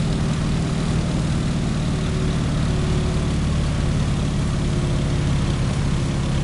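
Boeing Stearman PT-17 biplane in Microsoft Flight cruises with a continuous loud radial engine drone and propeller hum, throttle set for cruise and the propeller pulled back, unchanging throughout with no voices.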